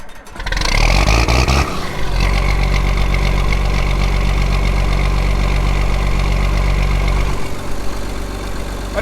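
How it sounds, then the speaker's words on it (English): An old classic John Deere tractor cranks and catches, then settles into a steady, loud, close idle with a deep rhythmic thrum that holds for several seconds before a slight dip near the end. "there's nothing like the sound of old John Deere tractor starting in the morning."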